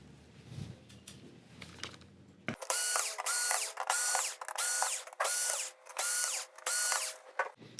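Power screwdriver backing screws out of the main board of a Sony XBR-65X850E TV, six short loud whirring bursts in a steady rhythm after a quiet start.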